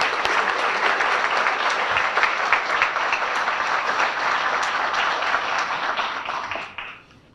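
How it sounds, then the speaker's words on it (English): A large dinner audience applauds steadily for about seven seconds, a dense, continuous wash of many hands clapping, with no talk over it, before the clapping tapers off at the end. "please join me in a round of applause to thank each and every one of these sponsors and advertisers"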